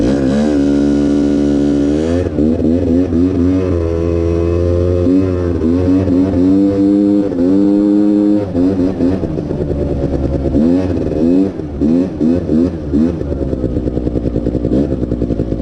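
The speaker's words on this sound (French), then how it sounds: "le ventilateur, ça fait aspirateur de ce côté, ça fait wim wim quand j'accélère" Loud quad engine close by, revving up and down repeatedly in waves, with a whooshing cooling-fan airflow sound rising and falling along with the revs.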